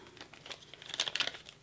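A plastic bag is handled and sealed, giving a short, soft run of close crinkling and crackling with a few sharper snaps toward the end.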